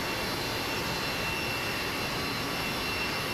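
Airliner jet engines taxiing in the rain, from an Airtran freeware airplane in Microsoft Flight Simulator X, make a steady, loud, unbroken roar with a broad hiss and no speech.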